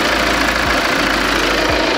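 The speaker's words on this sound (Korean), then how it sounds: "영상에서 듣는 것처럼 디젤 엔진이라 어느 정도 소음은 있지만" A Volvo V40 diesel engine idles with the hood open, a loud, close, steady clattering rumble with even, rhythmic diesel knock throughout and nothing else over it.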